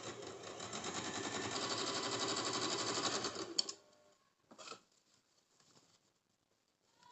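A sewing machine runs a double line of stitching on a cigar-style pant, whirring steadily for several seconds, then it stops abruptly and a few faint handling clicks follow in near silence.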